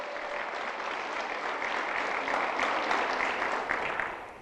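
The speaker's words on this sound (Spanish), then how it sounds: "Pensé que iba a dar un aplauso." Church congregation applauding in a steady, dense wash of clapping that swells toward the middle and fades at the end, with no voice over it.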